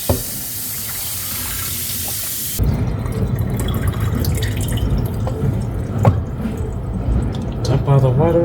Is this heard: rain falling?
no